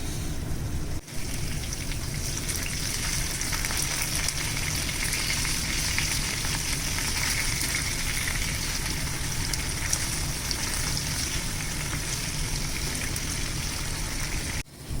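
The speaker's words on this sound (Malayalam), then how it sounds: "നമ്മൾ ഫിഷ് നല്ലോണം വേവിച്ചെടുക്കേണ്ട ആവശ്യമില്ല, ജസ്റ്റ് ഒന്ന് ഫ്രൈ ചെയ്തെടുത്താൽ മതി." Fish pieces fry in hot oil for a quick shallow fry, giving a dense, steady crackling sizzle that continues close and loud throughout, with a brief dip near the start.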